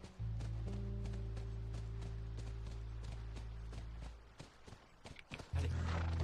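Repeated clopping hoofbeats of a horse at a walking pace near a ranch, over a steady low engine-like hum, fading briefly near the end before the hum returns louder.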